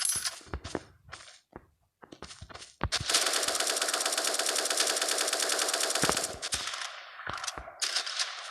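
Rapid bursts of automatic gunfire from a Zula-style online shooter game: short scattered shots at first, then a long sustained rattling volley for several seconds, followed by a few more quick bursts.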